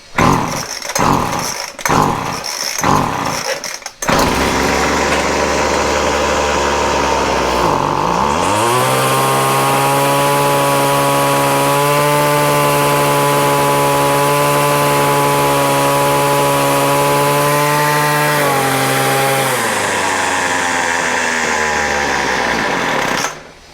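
A Feather Lite chainsaw with a faulty carburetor tune sputters briefly, then catches and runs loud and steady at a rising, then high sustained engine pitch after being richened, before dropping back near the end.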